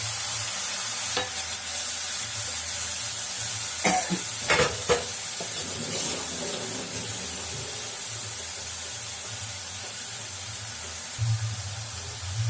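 Tomato and onion sauté in a pan with a steady, close sizzle for a country chicken curry. Stirring scrapes and a few sharp clinks of a spoon against the pan sound throughout, and a low hum runs underneath.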